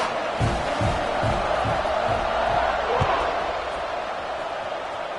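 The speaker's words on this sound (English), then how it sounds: "this crowd is buzzing after that last score" A football stadium crowd buzzes after a touchdown, a broad, steady roar at a distance, with an announcer talking over it.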